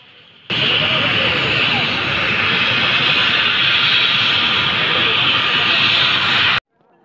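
A large air force helicopter with big spinning rotor blades gives a loud, steady roar at close range as it comes in to land at a ceremonial arrival, then cuts off abruptly.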